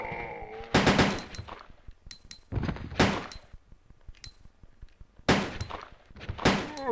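Gunfire in the Resident Evil 2 video game: several sharp, loud shots in separate bursts, each with a short ringing tail, spaced irregularly over quiet gaps.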